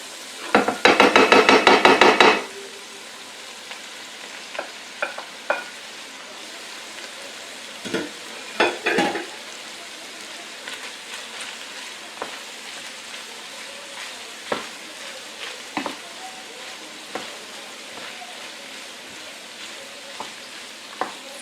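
Peruvian chaufa fried rice with chopped egg sizzles loudly in a hot pan for a couple of seconds, then sparse clinks and scrapes of stirring follow over a low hiss.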